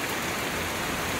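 Heavy rain hissing steadily nearby, a broad wash of falling water with no talking.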